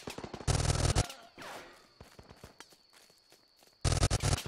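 Gunfire in the military shooter game Running With Rifles, with two loud dense bursts of rapid shots at the start and end and scattered single cracks and clicks between them.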